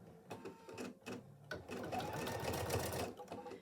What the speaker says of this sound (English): I'm going to go ahead and stitch out my tack down line.